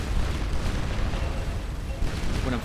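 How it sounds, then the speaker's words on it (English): Plasma weapons fire continuously in the Starcom Nexus space game, a dense run of deep, rumbling bursts and pops that barely pause, with faint vocal sounds underneath. "I'm firing our plasma so much"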